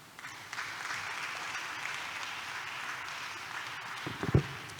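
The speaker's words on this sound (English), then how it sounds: "Please, let's give another round of applause to the panel." An audience at an academic colloquium applauds a panel steadily for several seconds, a dense wash of clapping that swells slightly near the end.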